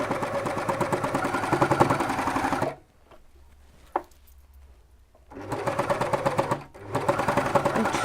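A sewing machine stitches a sleeve seam in two close, steady bursts of rapid mechanical whirring, separated by a quiet pause with a single small click.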